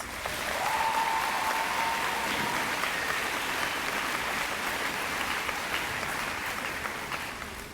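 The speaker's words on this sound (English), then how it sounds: "Let's give these students a round of applause." A large crowd at a high school graduation applauds students receiving pharmacy technician certification, a broad, sustained roar of clapping with a brief whistle rising near the start.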